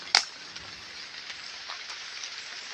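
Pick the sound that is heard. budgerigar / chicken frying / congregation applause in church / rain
rain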